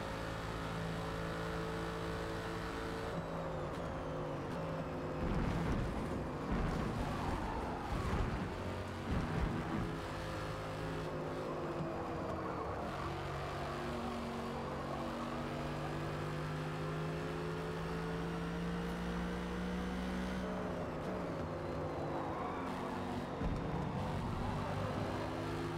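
Mercedes AMG GT3 race car on a lap, its engine droning steadily throughout with rising and falling harmonic pitch as it accelerates and shifts, loud and continuous with no voices.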